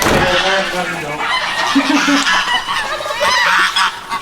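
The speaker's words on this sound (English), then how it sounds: "Oh goodness, here comes all the geese." A loud flock of geese on a farm honking and clamoring close by at feeding time, overlapping calls throughout, with a person's voice mixed in among them.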